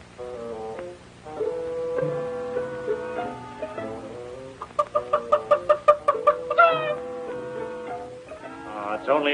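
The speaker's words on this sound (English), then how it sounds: "a chicken." Chicken clucking on a ranch, a run of short repeated clucks over a steady bed of tonal background, moderately loud with no talk.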